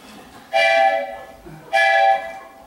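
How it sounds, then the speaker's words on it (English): A departing train sounds two loud, close horn blasts, each about a second long with a short gap between them, over quiet background. "The train is leaving."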